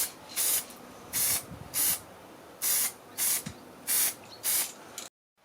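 Several short bursts of high-temperature spray paint hiss from an aerosol can onto an Audi A3 exhaust manifold, close and fairly loud, with brief pauses between each spray before it cuts to silence.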